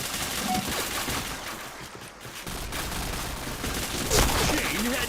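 Gunfire rattles in a shooter video game in rapid, dense bursts, loud and close, with game sounds and a voice talking partly over it.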